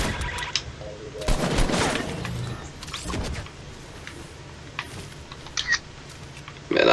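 Gunfire in the battle royale game Fortnite, several sharp bursts of shots and quick pops scattered across the clip, with a voice talking between them.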